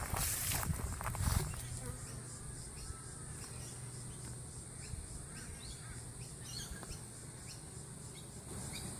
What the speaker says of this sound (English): Here you see the bees that have been marked on top of each frame